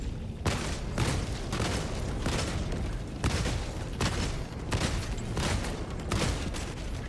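Repeated heavy bursts of autocannon fire in a video game, loud and close, coming in regular thumping volleys with short gaps between them and no talk over them.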